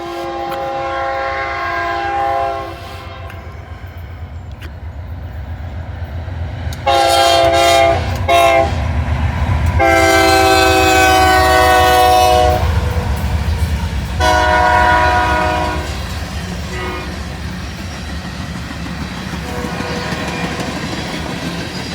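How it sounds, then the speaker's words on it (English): An empty ethanol freight train rumbles past nearby with clattering wheels, its horn blowing several long, loud blasts over the steady roar. "This is going to be an ethanol train"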